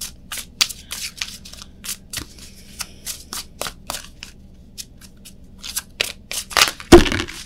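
Tarot cards are shuffled by hand in a rapid series of crisp, close riffles and slaps with brief gaps between bursts, ending in a louder thump as the deck is squared.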